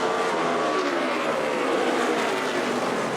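NASCAR stock cars racing at Martinsville: a loud, continuous roar of several engines at once, with rising and falling pitches from cars passing close by, and no talk over it.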